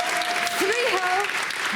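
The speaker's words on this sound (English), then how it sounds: "Please, round of applause for G2 here today." Crowd applause fills an esports arena at a League of Legends LEC Spring 2022 semifinal between Fnatic and G2, with a host speaking over the steady clapping.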